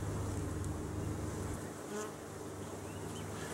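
Honey bees buzz densely and steadily around an open beehive, close to the microphone and continuous, with no voices.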